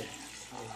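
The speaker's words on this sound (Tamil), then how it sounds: "தண்ணி ஊற்றி" Water pours steadily and close into a cooking pot of horse gram with salt, a continuous splashing rush with no pauses.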